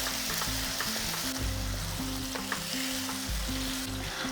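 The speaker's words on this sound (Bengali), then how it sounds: "এরপরে গ্যাসটাকে একটু লো ফ্লেমে রেখে এইভাবে কষিয়ে নিতে হবে।" Potol (pointed gourd) with a sour yogurt mixture sautéing in a pan over a low flame, giving a steady, close sizzle and frying hiss with soft stirring scrapes throughout, no talking.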